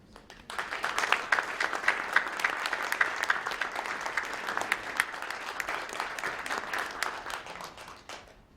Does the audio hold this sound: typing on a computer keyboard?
no